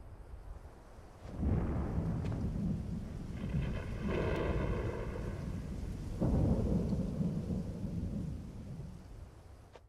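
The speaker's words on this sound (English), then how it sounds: "There's a storm." Thunder in a Final Fantasy XVI thunderstorm rolls in as deep, swelling rumbles over rain, with two long loud waves of rumbling and a faint tonal hum between them, no voices present.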